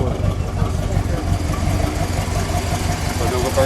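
A 1969½ Plymouth Road Runner A12 in orange with a 440 V8 idles with a steady, loud, rumbling low-end throb, its even pulse running throughout without a break.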